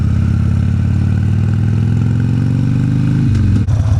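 A motorcycle engine runs steadily and loudly up close, its low rumble shifting pitch near the end as the rider changes speed.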